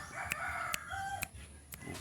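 A bantam chicken, a small ornamental breed, gives a few short, sharp clucks at a steady pace, fairly close, over a faint background with no talking.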